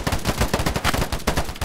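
Sustained automatic gunfire in a free first-person shooter game, a steady rattle of close, loud shots with brief gaps and renewed bursts, heard alone without voices.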